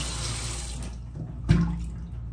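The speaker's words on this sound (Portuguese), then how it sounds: "tinha acabado a água da rua. Voltou, ó a força aqui." Kitchen tap running at full force as water pressure returns, rinsing a sponge over the counter, a steady close gushing stream with a brief splash burst partway through.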